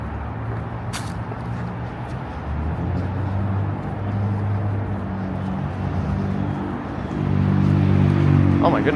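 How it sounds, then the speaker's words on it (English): A small, noisy car sputters past on a Midtown Manhattan street, a rough low engine drone that grows louder toward the end amid city ambience and occasional speech. "That little car makes a lot of noise. Just farting along."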